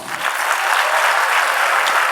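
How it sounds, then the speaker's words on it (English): A live audience at an education conference on preparing schools for the future claps loudly. The applause is a short, dense burst that starts abruptly, with no speech over it. "A round of applause for all those who saw"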